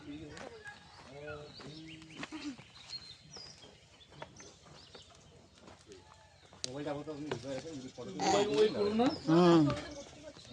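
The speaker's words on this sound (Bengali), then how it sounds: "বিভিন্ন পাখি, ময়ূর এইসবের ডাক," Assorted birds and peacocks call in a jungle during an elephant-back safari, with coos and chirps scattered through the clip and louder calls near the end, while people talk throughout.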